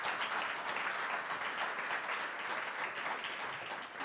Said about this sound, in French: J'aimerais qu'on les salue aujourd'hui et qu'on les applaudisse.